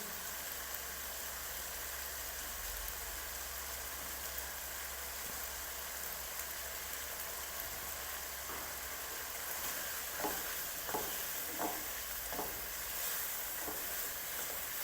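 Milk cream cooks in a pan for chicken pasta, giving a quiet, continuous sizzle and simmer, with a few soft stirring scrapes near the end and no speech.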